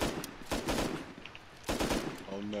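An M2 heavy machine gun in a video game firing at a helicopter, rapid sustained bursts in two main volleys, fairly close, with a tonal engine-like hum rising near the end.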